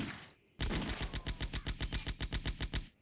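Automatic gunfire from the Partisan game, a loud close sustained burst of about fifteen evenly spaced rapid shots after a brief quiet start, stopping abruptly.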